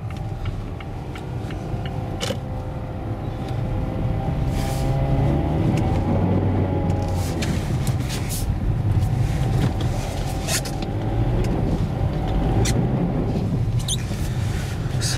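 A car driving slowly on snow on Vredestein Quatrac Pro tires, a steady loud low engine and road rumble inside the cabin, with faint creaks and crunches over it and no talking.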